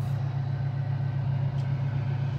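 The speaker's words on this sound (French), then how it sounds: "je pense que c'est la désalinisatrice de l'île." An island desalination plant's diesel engine runs through the night beside an anchorage. It gives a steady, low, unbroken hum at moderate distance, fairly quiet and with no talking.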